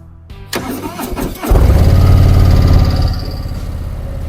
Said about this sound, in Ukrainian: Вихлоп голосніший, різкіший, басовий удар для драйву.